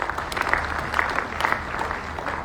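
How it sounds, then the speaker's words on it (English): Audience applause at a foundation day lecture in a hall, a steady burst of many hands clapping throughout, fairly close and even, with no speech over it. "can we give Comrade Issa Remo another round of applause?"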